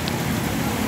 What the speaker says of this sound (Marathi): पूर्ण फास्ट आहे पाऊस